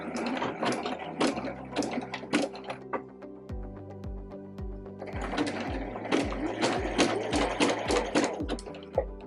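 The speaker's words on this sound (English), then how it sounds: "I'm going to back stitch at the beginning" Sewing machine stitching fabric for a bread bag, a close, loud mechanical whir of rapid needle strokes that pauses and restarts, with a short reverse back-stitch section.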